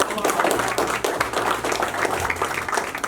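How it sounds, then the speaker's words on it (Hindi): An audience at an engagement celebration claps, a dense burst of applause from many hands, loud and continuous throughout, with voices mixed in. "शहीद जी के लिए जोरदार ताली"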